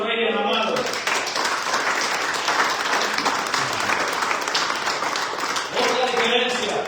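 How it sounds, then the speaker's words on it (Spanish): A church congregation breaks into dense, loud clapping that fills the space for several seconds, a steady wash of many hands, with a voice heard briefly at the start and again as it dies away. "Denle un aplauso al Rey amado."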